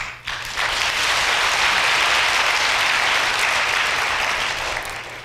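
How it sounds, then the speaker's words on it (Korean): Audience applause fills a university matriculation ceremony hall at POSTECH, a dense, steady wash of clapping that swells quickly and holds loud for several seconds before easing slightly at the end. "동료 신입생 여러분들에게도 힘찬 격려와 칭찬의 박수를 보내드립니다"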